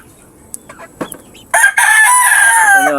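White chickens and young chicks in a flying pen give a few sparse clucks and peeps, then a loud rooster crow bursts in and carries to the end, close and dominant.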